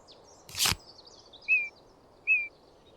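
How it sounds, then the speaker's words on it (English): An Eastern Imperial Eagle in the Wingspan game gives two short, clear, high call notes about a second apart, following a brief broadband burst, over a faint quiet background. "Eastern Imperial Eagle."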